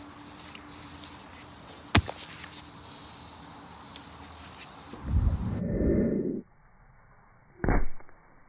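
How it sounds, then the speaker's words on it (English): A sledgehammer strikes an orange outdoors, giving one sharp crack followed by a brief wet splatter and another short thud, close and fairly quiet. "We're going to sledgehammer this orange,"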